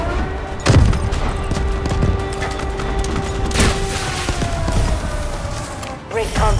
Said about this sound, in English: Artillery, destroy the enemy.